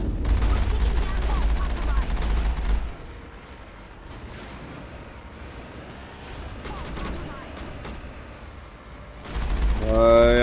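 Gunfire in a Mass Effect space battle, heavy booming shots and rumbling blasts loud at the start and end, with quieter sustained firing in between.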